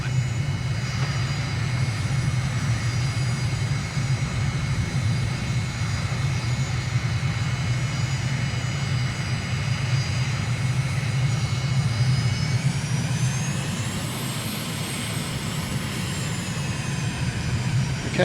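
Steady, loud jet engine roar from a simulated aircraft at takeoff in Microsoft Flight Simulator, holding a constant drone with a rising whine near the end as throttle increases; no talking.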